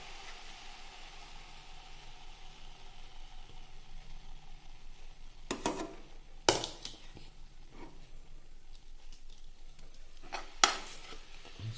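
Mashed banana is stirred in a pan over a low background hum, with a few sharp spoon-on-metal clanks and scrapes clustered together, then a last pair near the end.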